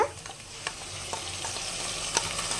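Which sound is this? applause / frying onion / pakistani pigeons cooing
frying onion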